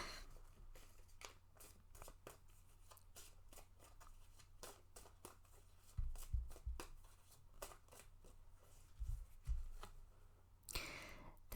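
Tarot cards are shuffled in quick, crisp riffles, close and soft with a steady flutter and a few heavier taps, ending in a louder rustle.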